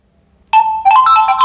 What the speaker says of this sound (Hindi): फाइंड माई डिवाइस पे यहाँ पे प्ले साउंड हो रहा है